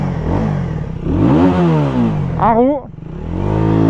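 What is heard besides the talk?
Aprilia RS 125 2012 motorcycle engine revving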